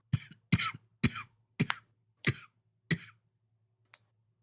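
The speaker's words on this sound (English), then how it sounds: "It's probably why I have the cancer cough." A person with a harsh, smoker's cough from inhaling burnt cotton coughs in a run of about six sharp, close bursts spaced roughly half a second apart, ending with one small faint cough after a pause.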